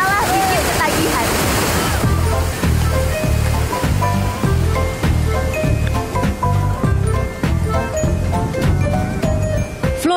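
Artificial surf from a FlowRider wave machine at a Nusa Dua beach resort, a steady loud rush of churning water with rhythmic pulsing surges, heard close up and continuous throughout.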